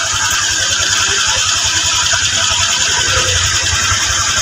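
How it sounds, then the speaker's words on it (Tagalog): A motorcycle engine warms up at a steady, close idle, a loud throbbing putter that holds even throughout with no voices over it. "Magpapainit na tayo ng motor."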